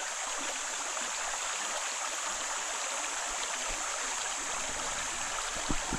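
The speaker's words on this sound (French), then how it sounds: "elle déborde vraiment. Hein, puisque ça crée un petit ruisseau" A small stream of overflowing spring water runs in a steady, soft, even rush that stays faint and unbroken throughout, with no voices over it.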